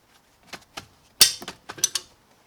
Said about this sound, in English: Then you'll also want to undo this little bolt up here. You should just be able to bust that loose.